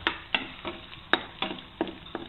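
Garlic and meat for vinegar adobo sautéing in a pan, stirred in a steady series of about eight sharp spatula scrapes over a low sizzle, close and alone with no talking.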